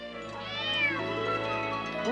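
A kitten meows in a long, drawn-out, rising and falling cry close by, standing alone over a quiet low hum with no talking.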